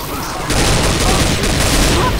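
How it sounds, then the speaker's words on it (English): Rapid gunfire from a Dark Carnival co-op shooter, a dense continuous burst starting abruptly and holding loud to the end, with a voice briefly under it. "Stop shooting me!"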